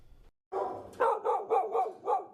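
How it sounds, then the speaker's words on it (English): Several dogs bark at an animal shelter, a burst of loud, close barks following a short pause, with about five rhythmic woofs in quick succession. "The barking is deafening at the Jackson County Animal Shelter."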